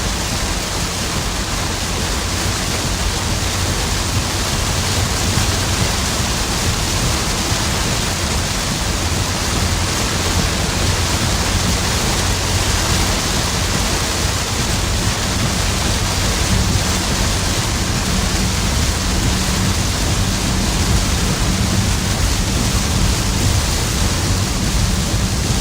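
Heavy rain pours down during a southern storm, a loud continuous hiss of water drumming on surfaces that stays constant and dense throughout, with no talking heard.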